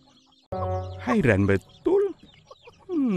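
A chicken clucks loudly and close, a short series of harsh squawks, with a person speaking briefly between the calls.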